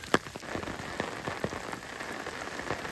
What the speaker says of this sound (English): it was slightly raining on us today